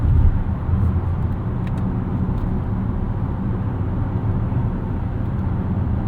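A 2022 Chevrolet Blazer RS cruises on the highway, heard from inside the cabin as a steady low road and engine drone with soft tire roar. The hum holds at a constant moderate level and no one speaks.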